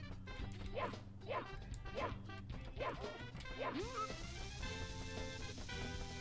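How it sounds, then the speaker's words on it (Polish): A dog-like creature in Super Mario 64 barks in a quick string of yips over steady game music, ending with a bright sustained tone. "Piesek tu jest uroczy."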